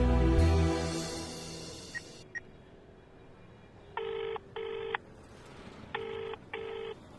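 Telephone keypad tones beep in two pairs of steady dialing notes after a fading hum, close and clear with no talking.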